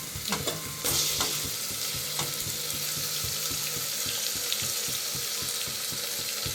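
Tomato frying lightly in a pan gives a steady close sizzle, broken by repeated scraping stirs and light clinks throughout, with no voices.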